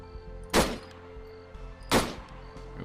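Two loud, single shots from a 7.62 Zafir machine gun in the ArmA 3 video game, spaced more than a second apart, each a sharp blast with a short tail over a faint steady hum.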